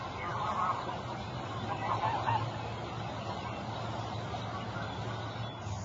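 Swans and other waterfowl on a quiet pond of a lake give faint, scattered honking calls over a soft, steady outdoor background.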